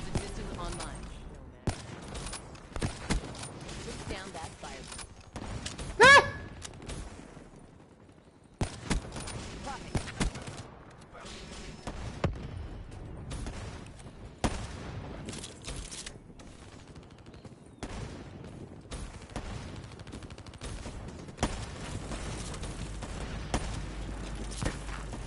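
Video game gunfire crackles in repeated sharp shots and short bursts, spread irregularly over a quiet background with brief gaps and faint game sounds.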